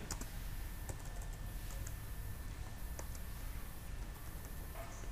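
Someone types on a computer keyboard while working in Revit: faint, scattered keystroke clicks over a steady background hiss.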